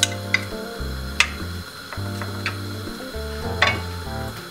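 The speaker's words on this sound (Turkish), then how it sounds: "Biraz pembeleşinceye kadar kavuruyoruz." Chopped medium onion sautéing in half a glass of vegetable oil in a pan for a chard börek: a steady, close sizzle with a low background hum and a few sharp utensil clicks against the pan.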